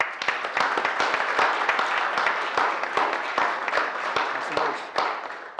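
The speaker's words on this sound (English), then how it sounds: "let's give them a round of applause" Sustained audience applause fills a city council business session, dense overlapping claps at steady loudness for several seconds with a faint murmur of voices underneath.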